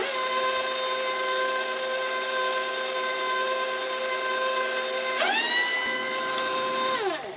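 An electric mixer beats chocolate cake batter with a steady, even whine. Partway through, the motor's pitch jumps higher, then it cuts off near the end.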